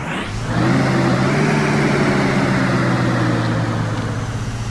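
A steady International 3800 bus engine (1999 Amtran) in a video game revs up and holds a loud, droning rumble with low harmonic tones, running continuously without pause.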